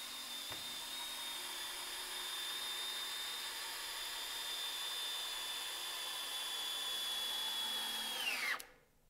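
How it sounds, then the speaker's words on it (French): An 18 V cordless drill-driver set to drilling mode whines at a steady high pitch for about eight seconds, close and even, then winds down and stops abruptly. "je vais choisir la fonction perçage pour avoir mon couple maximum"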